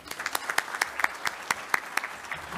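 An audience at a New Zealand oration event applauds to welcome a speaker onto the stage, steady overlapping claps with sharp individual hand strikes, moderately loud and unbroken throughout.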